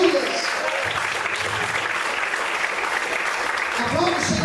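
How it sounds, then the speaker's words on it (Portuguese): Congregation applauding in church during a sermon: a sustained wash of clapping from a crowd, with a preacher's voice cutting in over it at the start and end. "Quem crê, adore e aplauda ao Senhor bem forte, aleluia."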